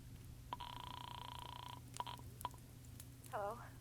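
A telephone dialed in a noir radio mystery drama: a long steady tone, then several short, distinct dial beeps, a brief ringing burble near the end, all over a low background hum.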